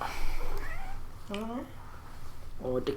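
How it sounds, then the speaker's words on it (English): A cat meows twice, each call short and clear at close range, with someone talking over and between the calls indoors. "kitty wanted to come out here."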